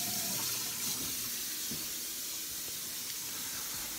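Water runs steadily from a kitchen faucet in a remodeled home, a continuous close hissing splash with no pauses.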